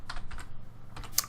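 Soft tapping of keys on a computer keyboard while typing a database query, a few quiet irregular clicks close by with no voice.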